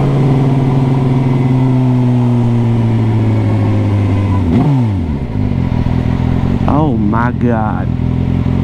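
Turbocharged Suzuki GSX-R 1000 motorcycle accelerating hard, a loud sustained engine roar climbing through the gears, then a brief dip and quick rising revs, with a rider's excited voice over it.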